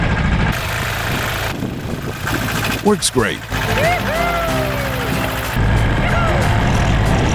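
Small Massey Ferguson tractor engine pulling snow with a homemade scrap-metal attachment, a steady close mid-low engine drone with metallic scraping squeaks midway and a brief spoken remark.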